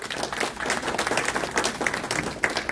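Audience at a community political meeting applauding, dense continuous clapping from a mid-sized crowd, fairly loud and steady for a few seconds.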